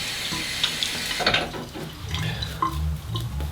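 Water from a running tap splashes as hands wet a face before a straight-razor shave, close and moderately loud with scattered splashes and drips.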